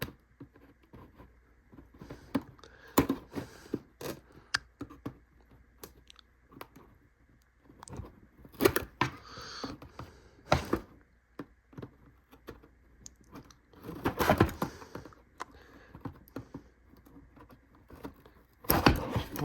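Scissors snip and crunch into plastic toy packaging while unboxing a Transformers Legacy Untied Voyager Class Animated Optimus Prime, giving close, irregular clicks and crackly bursts separated by short pauses.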